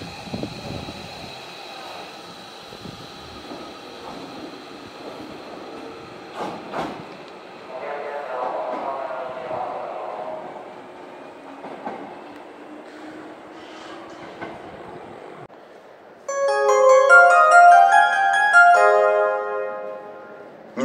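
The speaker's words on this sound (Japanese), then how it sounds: "まもなく2号線に電車が到着します。" An electric train rumbles and hums into Hankyu Nishinomiya-Kitaguchi Station in Japan, brakes and machinery whirring, followed by a chiming musical jingle over the platform.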